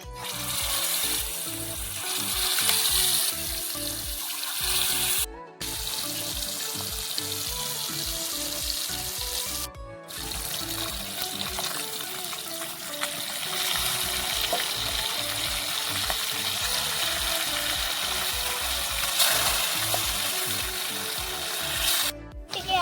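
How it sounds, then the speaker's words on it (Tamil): Fish fried in hot oil, giving a loud, dense crackling sizzle that runs continuously at close range, broken by a couple of brief cutouts, with occasional stirring and watery splashes. "இப்போ மீனை பொரிச்சு எடுத்துடலாம்"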